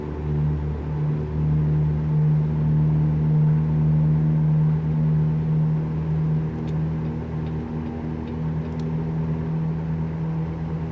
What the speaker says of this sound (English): Yeah, that truck sounds awesome.